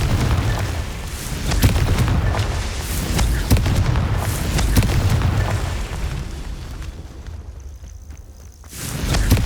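Confringo fire spells explode in Hogwarts Legacy combat, a dense run of loud booms and bursts that comes in rapid succession, then fades briefly before another blast near the end.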